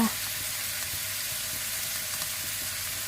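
Minced pork with holy basil stir-frying in a pan as fish sauce goes in, a steady close sizzle and frying hiss running through without pause and with no voices.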